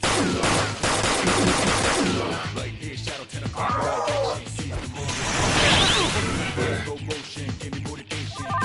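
Gunfire rattles in bursts in the Persona 5 Royal video game, mixed with crashes, whooshes and impacts under loud battle music, all dense and close.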